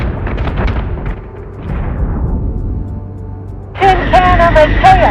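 Heavy ship cannons in the space combat game Battlestar Galactica Deadlock boom in a dense rumbling barrage, then a louder burst of firing with bright electronic weapon tones joins near the end.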